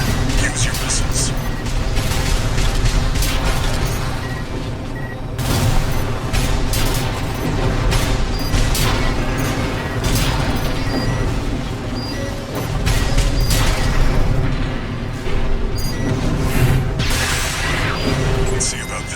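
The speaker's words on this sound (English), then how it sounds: "Use your missiles." Armored Core 6 missile volleys fire and burst in a dense barrage, repeated booms and crashes overlapping with a rumbling mechanical battle background throughout.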